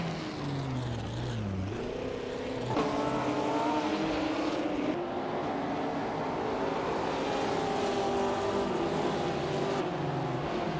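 Engines of 1950s sports race cars in a racing simulator game roar continuously, several cars droning and shifting pitch as they pass, loud and steady throughout with no talk.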